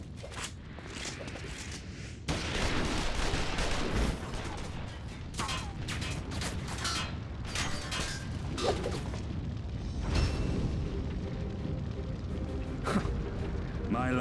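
Gunfire and booming impacts crackle through a battle scene in Final Fantasy XIV, a dense continuous barrage of shots and mechanical clatter with voices shouting over it.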